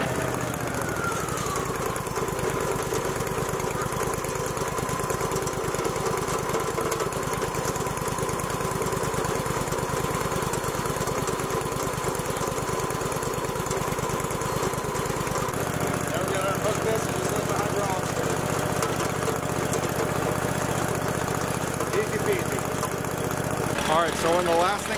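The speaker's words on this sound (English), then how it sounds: "just to go ahead and run all of your hydraulics around, make sure everything's working properly" A Wood-Mizer sawmill engine drones steadily while its hydraulics are cycled, a continuous mechanical hum whose pitch and load shift as the controls are worked, loud and close.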